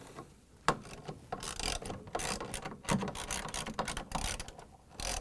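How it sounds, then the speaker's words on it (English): Ratchet wrench tightening bolts on an LG/Kenmore washer motor stator, repeated close metallic clicking in bursts with brief pauses, loud and alone. "I'm going to use this ratchet and we're going to tighten them."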